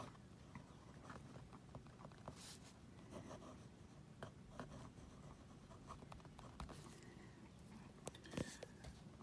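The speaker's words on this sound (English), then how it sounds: "I'm going to write something about an event that happened this week" A Zebra G-402 gel pen scratches softly across paper in faint, irregular strokes, quiet and close, with no voice over it.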